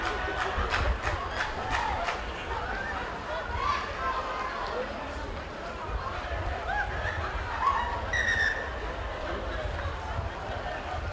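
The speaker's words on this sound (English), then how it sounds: "Look at the crowds out here at the ANZ National Stadium." A large crowd roars and chatters continuously at an under-17 final rugby match at ANZ National Stadium, with shouts and cheers rising over a broad, steady wash of distant voices.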